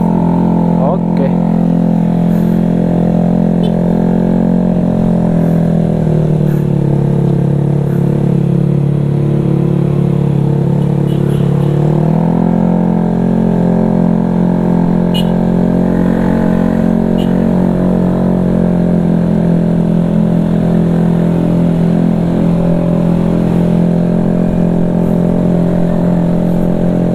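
A Honda Vario 210cc scooter engine running during its break-in period drones steadily and close up, with a throaty, helicopter-like hum that dips in pitch for a few seconds midway before settling back.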